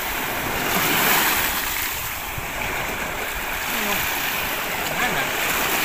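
Ocean surf rolling onto a beach at Padre Burgos, Quezon, a steady broadband wash with gusts of wind across the microphone, continuous and fairly loud, with people talking faintly nearby.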